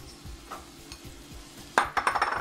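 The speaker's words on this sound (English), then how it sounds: "Give that a good stir." Celery and onions cooked in butter in a pan, stirred with a utensil that knocks and scrapes the pan in a quick burst of clatter near the end, over a faint background sizzle.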